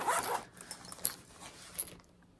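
Zipper on a crochet hook case, a close, loud zip pull at the start followed by a few shorter zipping tugs and clicks, then quiet.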